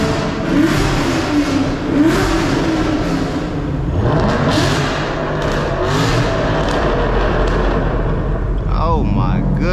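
Chevrolet Camaro SS V8 engine revving in the rain, heard from inside the car: loud sustained roar rising and falling in pitch with a swell toward the end, while people talk over it.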